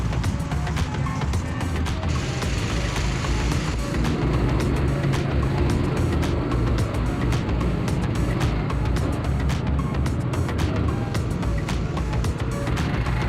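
A racing kart lapping a track, its engine a steady close-up drone with rapid pulsing and wind buffeting throughout, with no talking.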